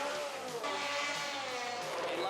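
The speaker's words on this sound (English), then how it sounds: "Still burnouts." Car doing a burnout at the Garrett Brisbane Jamboree drag event, a continuous loud tire squeal with a wavering, harmonic whine and engine roar under it, steady throughout.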